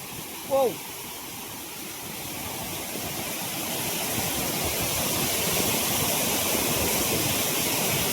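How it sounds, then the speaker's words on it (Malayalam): Continuous roar of a large waterfall in Idukki district, Kerala, heard close and loud throughout, growing slightly stronger toward the end, with a short voiced sound near the beginning. "നമ്മുടെ കേരളത്തിലുള്ളതിൽ വലിയ വെള്ളച്ചാട്ടങ്ങളിൽ ഒന്നും തന്നെയാണിത്"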